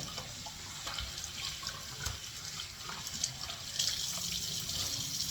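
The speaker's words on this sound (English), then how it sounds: "I'm gonna do one more rinse" Tap water runs steadily into a sink while a face is rinsed clean of a homemade coffee-ground scrub, a close, continuous splashing wash with small spikes of louder splatter and no talking.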